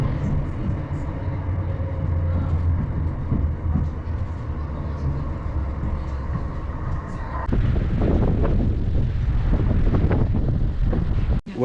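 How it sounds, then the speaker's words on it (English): Heavy wind in Dumbarton, Scotland, buffets the microphone in a constant low roar, growing rougher and louder partway through, with no voices. "So it's still windy as hell down here"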